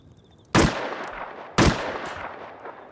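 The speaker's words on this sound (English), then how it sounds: "This is the handmade pistol." Two loud, sharp shots from the handmade pistol in the Rust video game, about a second apart, each cracking out and trailing into a brief echoing decay over a quiet background.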